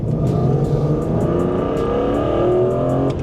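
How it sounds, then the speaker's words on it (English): A loud BMW E36 M3 Evo S54 engine roars and climbs in pitch as the car accelerates hard, the rising intake howl sustained over a few seconds. "that S54 intake noise is absolutely fantastic"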